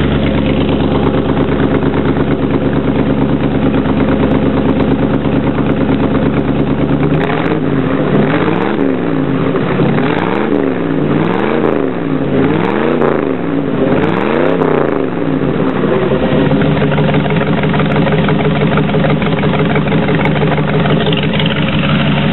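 A 1948 Chevrolet 3100 resto-mod truck engine runs through dual exhaust, loud and close, idling steadily, then rising and falling through several revs in the middle before settling back to a deep idle.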